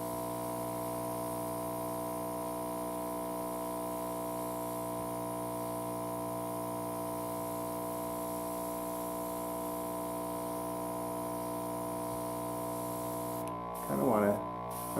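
An airbrush compressor from a Thermalabs kit runs with a steady, even hum and a fine spray hiss, holding constant for a long stretch. A brief clatter of handling comes near the end.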